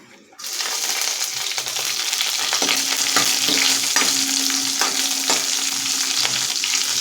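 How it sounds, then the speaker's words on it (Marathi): Chopped green chilies and curry leaves hit hot oil and fry, a loud sudden sizzle that stays as a steady crackling hiss with occasional stirring scrapes, close and with no talking. "मिरच्या थोड्याशा परतून घ्यायच्या आहेत"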